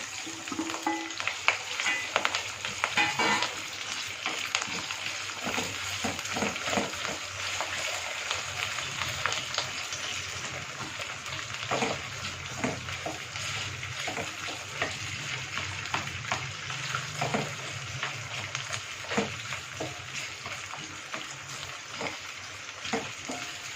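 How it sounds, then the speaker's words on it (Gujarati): Potatoes and chillies fry with cumin in a pan for sabudana khichdi, a dense continuous sizzle broken by frequent scraping stirs, with brief talk underneath. "જીરું તથળી ગયું છે એટલે હવે આપણે એમાં બટાકા અને મરચાં નાખી દઈશું"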